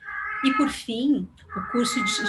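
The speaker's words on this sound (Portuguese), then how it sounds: "desculpem o barulho, eu não sei se vocês estão ouvindo a minha gata aqui." A house cat meows loudly in two drawn-out cries as someone speaks in Portuguese close to the microphone during an online talk, the meows overlapping and interrupting her.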